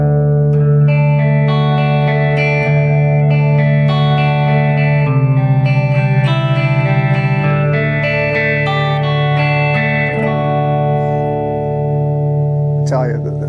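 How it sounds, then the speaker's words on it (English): Electric guitar played through a Marshall SV20H amp with a Hall of Fame reverb pedal in the effects loop, ringing sustained chords and notes with a lush reverb tail, loud and continuous without any talking. "So now let's listen to what it sounds like through just the Hall of Fame reverb."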